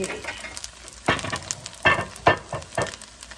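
Pad see ew noodles being stir-fried in a pan, with a few distinct scraping, tossing strokes over a soft steady sizzle, close and moderately loud.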